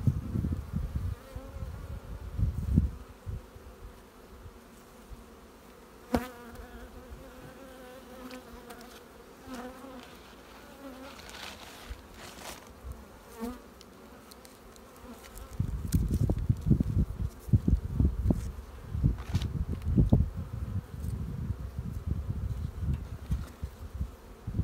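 Honey bees buzz around an opened hive during a spring inspection, a continuous close droning hum that swells louder in the final stretch, with no talk.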